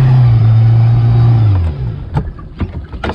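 The outboard motor on a 17-foot shrimping boat with a 25-foot trawl net drones loudly and close, then drops away as the engine cuts out, leaving scattered knocks and clatter.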